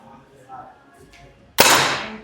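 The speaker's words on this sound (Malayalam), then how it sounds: "എടാ നീ വെടി വെക്കില്ലേ?" A gun fires at a shooting game arcade, giving one sharp, loud crack that rings out briefly after a couple of seconds of quiet background murmur.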